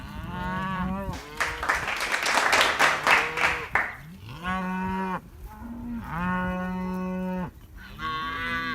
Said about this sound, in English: Getting these cows to move down to this corner.